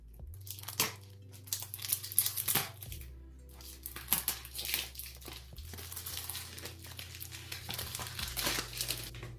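Perfume packaging with a vintage floral design crinkles and rustles as it is handled, in close, quiet bursts of crumpling and tearing-like crackle spread unevenly over several seconds.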